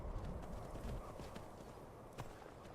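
Horse hooves clip-clop at a steady walking rhythm while riding in Skyrim, faint and soft against a low rumbling background.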